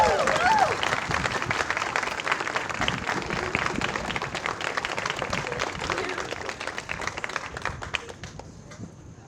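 Sustained audience applause at a pageant awards ceremony, with dense clapping filling the hall at steady loudness and tapering toward the end.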